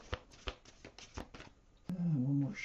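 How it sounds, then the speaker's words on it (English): Tarot cards being shuffled by hand, a run of quick riffling bursts close up for about two seconds, followed by a steady low hum. "One more shuffle."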